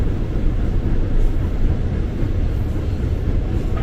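A KRL commuter train rumbling past near Kranji, a dense, loud low-frequency roar of wheels and carriages holding steady throughout with no voices over it.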